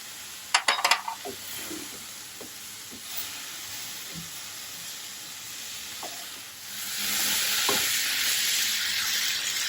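Fenugreek powder and asafoetida sauté in hot oil for a Kerala-style star fruit pickle, with a few sharp clinks of a spoon early on, then a soft sizzle that swells into a steady hiss.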